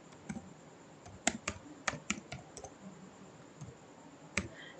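Keys clatter on a computer keyboard while a formula is entered in an Excel spreadsheet, a quiet close run of uneven taps and clicks in short bursts with gaps between, no talk.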